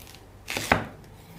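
A knife halves a fennel bulb on a cutting board, giving one quiet crisp cut that ends in a sharp chop against the board, alone in a quiet kitchen.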